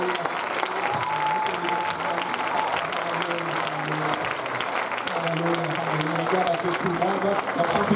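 A church congregation applauds and cheers together, dense continuous clapping with scattered voices and shouts rising through the room.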